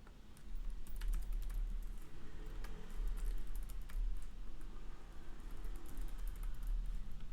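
Fingers tap steadily on a computer keyboard, a quiet, close run of light clicks in an uneven, continuous rhythm over a low background hum.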